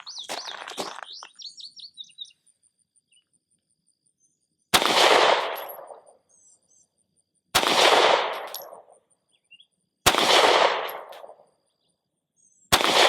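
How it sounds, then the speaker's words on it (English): Four loud, sharp pistol shots from a SIG P365 on an outdoor range at 25 yards, evenly spaced a few seconds apart, each with a ringing tail, with birds chirping faintly in between. "I'm going to shoot the SiC P365 at 25 yards on a B8"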